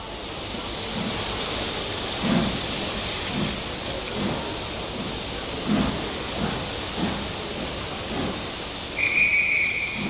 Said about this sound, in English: And the N2 restarts its train.